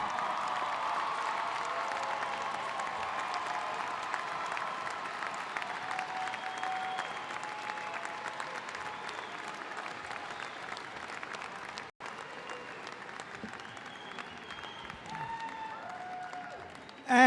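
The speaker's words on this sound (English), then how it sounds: "Turn around and applaud your parents and friends." A large university commencement audience at Hofstra applauds in a long, steady roar of clapping lasting over fifteen seconds, heard from a distance in a big hall with faint cheers mixed in.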